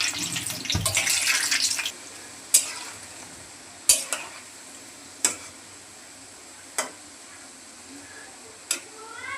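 Jackfruit fritters (bora pitha) fry in oil with a burst of loud bubbling sizzle for about two seconds, then quieter frying broken by five sharp spaced taps.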